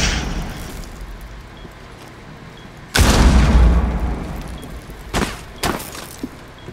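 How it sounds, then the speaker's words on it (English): A breach charge detonates in Rainbow Six Siege, a sudden loud blast with a deep rumbling boom that rolls on for about a second, followed by two sharper, quieter bangs a few seconds later. "Setting breach charge."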